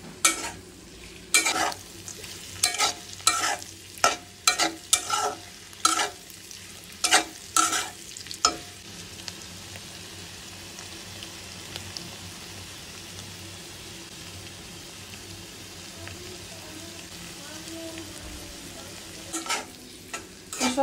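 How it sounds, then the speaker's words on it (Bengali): Potatoes, teasel gourd and fish fry in a pan with a steady, gentle sizzle. Bursts of a spatula stirring and scraping clatter near the start and again at the end, with no talk. "আমি এগুলো একদম অল্প আছে করে এগুলো ভেজে নিচ্ছি"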